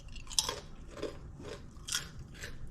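Homemade fried plantain chips being bitten and chewed up close, a series of four or five crisp crunches at a steady pace, moderately quiet with no talking.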